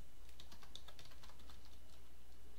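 Typing on a computer keyboard, a quick run of light, close key clicks over a faint steady hum, fading out toward the end.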